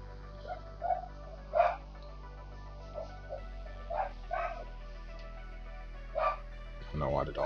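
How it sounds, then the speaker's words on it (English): A dog yips and barks in short, separate bursts spread across several seconds, fairly faint and distant, over a quiet steady background hum. "Know why the dog is barking"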